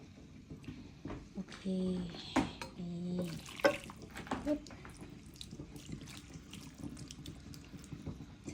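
Soy sauce with shiitake mushrooms is poured over a steamed sea bass, making a close liquid splashing and trickling. Someone speaks over the pour.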